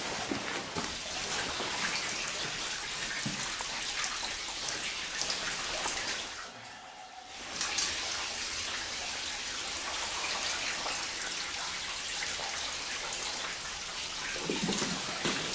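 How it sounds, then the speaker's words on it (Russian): Steady broadband splashing of water pouring down the wall of the Didinsky tunnel, continuous and fairly loud, with a brief quieter dip midway before the rush resumes. "водопад целый."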